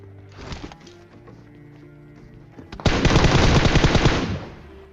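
Dense burst of automatic gunfire in a battle royale shooter game, loud and rapid for about a second and a half, preceded by quieter in-game footsteps and ambient clatter.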